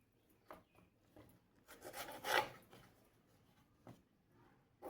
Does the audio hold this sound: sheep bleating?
no